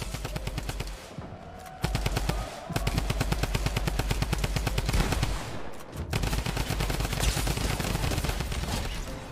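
Drum gun fire in Fortnite, long rapid bursts of automatic shots with brief pauses between them, loud and dense, layered over background music.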